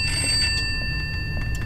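A telephone rings in the video game Pineview Drive, a shrill electronic ring with a steady bell-like tone throughout, fairly close and continuous over a low background hum.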